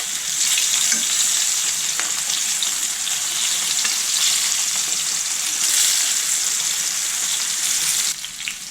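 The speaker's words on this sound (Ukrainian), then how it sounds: "Перевертаємо рибку на другий бік і обсмажуємо з другої сторони." Small Baltic herring, turned onto their second side, fry in hot oil with a loud, steady, crackling sizzle that runs unbroken for several seconds before easing slightly at the end.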